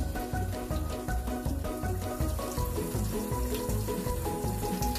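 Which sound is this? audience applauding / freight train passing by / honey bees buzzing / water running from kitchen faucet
water running from kitchen faucet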